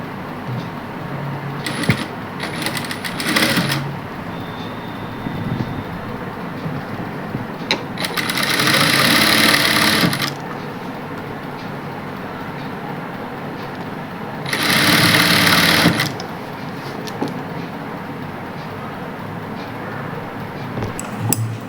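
A sewing machine stitches a young girl's kurta in two sustained runs, one of roughly two seconds and one of under two, with brief short bursts before them and quiet handling of fabric in between.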